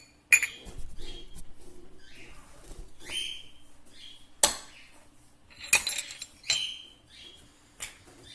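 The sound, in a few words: knife spreading peanut butter, clinking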